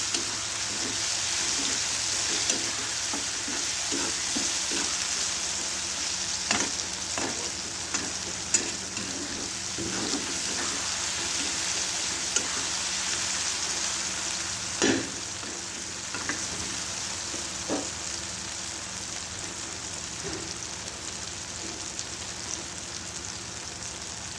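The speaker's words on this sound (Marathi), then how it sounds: "आता कोथिंबीर टाकू चांगलं हलून घ्यायचं आपल्याला" Tomato chutney with coriander and garlic paste sizzles steadily in a pan while a spoon scrapes and clicks through it in irregular strokes, close and fairly quiet, with no talk.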